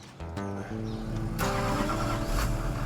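A tow truck's engine cranks and catches, then settles into a steady mid-pitched idle with a brief rev, close by and heard alone without talk.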